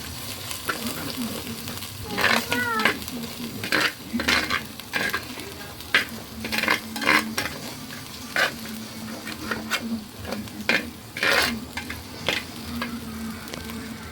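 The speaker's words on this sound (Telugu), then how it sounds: "అదే ఫ్రెండ్స్ పొద్దాక ఇలా వేపుతూ ఉండాలి, లేదంటే కింద మనకి మాడిపోద్ది." Masala for Andhra fish curry (chepala pulusu) frying in a pan, soft continuous sizzle broken by repeated scraping strokes of a spoon stirring, close and fairly quiet with no talk.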